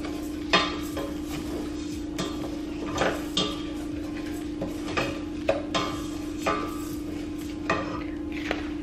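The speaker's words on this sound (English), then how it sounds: "toss to coat for about 1 minute" Vegetables tossed in a bowl to coat them in olive oil. It sounds as scattered clinks and knocks of a utensil against the bowl, loosely rhythmic, close and fairly quiet over a steady background hum.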